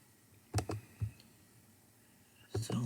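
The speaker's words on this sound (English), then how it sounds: "We're going to click around the body here" Computer mouse clicks come in a quick close pair, then a single click, and after a pause another short cluster, crisp and isolated against quiet room tone.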